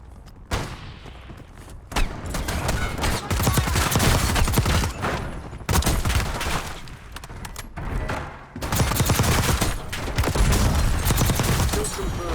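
SMG fire rattles in fast bursts during a team wipe in Warzone, with rapid overlapping shots and thuds running almost nonstop over a voice.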